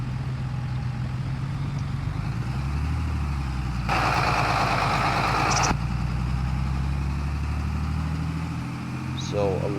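A farm vehicle's engine drones steadily at close range while it shifts down, and a brief burst of added noise comes mid-way. Someone talks over it.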